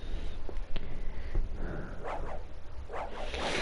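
Dogs barking in the video game Castlevania: Symphony of the Night, a few loud barks and yips over a busy game soundtrack and effects.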